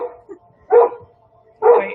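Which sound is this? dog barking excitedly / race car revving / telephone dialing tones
dog barking excitedly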